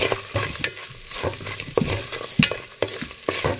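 Food frying lightly in a home kitchen pan during holiday cooking preparations, a steady soft sizzle with scattered stirring scrapes and clicks from a utensil throughout.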